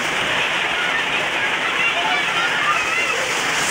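Heavy provincial rain pours and floods into a small store, a loud continuous rushing and sloshing of water throughout, steady and close.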